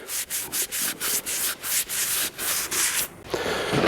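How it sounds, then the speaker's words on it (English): Brake linings from a 1960 BSA Bantam D7 are wiped with brake cleaner. About a dozen quick, close rubbing strokes come in a regular rhythm and then stop abruptly. "just get a bit of brake cleaner and just go back over those again"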